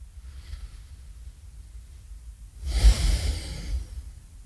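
A single deep, audible breath is drawn and released during a beginner yoga pose. A quiet pause comes before the one breath swells clearly in the middle of the clip.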